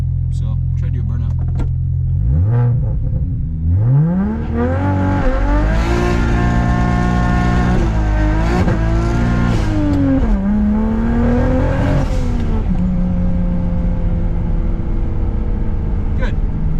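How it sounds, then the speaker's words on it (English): A BMW 335i drift car with its electronic differential coded off doing a burnout, the engine revving loud and close, pitch climbing and dropping in repeated surges before settling into a steady high drone. "so try to do a burnout."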